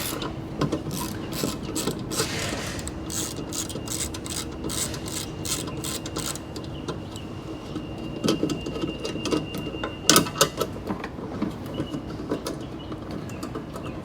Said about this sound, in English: You'll need a 12mm socket to get those off, so we'll go ahead and take that off.